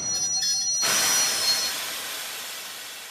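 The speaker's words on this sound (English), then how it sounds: "After 3 days, the train stops." A train comes to a stop, with an abrupt burst of hissing, squealing brake and wheel noise. The sound then slowly fades to a steady low rumble. No one speaks.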